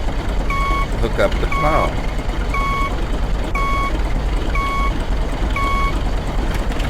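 A tractor in the Professional Farmer 2014 farming game gives off evenly spaced reversing beeps, about one per second, over a loud steady engine drone, while someone talks over it.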